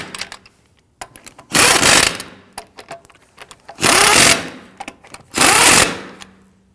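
Three loud bursts of an impact wrench rattle on the lug nuts of a Ford Explorer wheel, each lasting about half a second and separated by quieter clicks and handling noises, with no talking.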